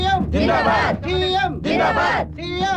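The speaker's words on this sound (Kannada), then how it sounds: "ಸರ್, ಕ್ರೌಡ್ ತುಂಬಾ ಇದೆ ಸರ್." A large crowd at a political rally for the Chief Minister roars in three loud, surging bursts of cheering and shouting, each breaking off briefly before the next swell.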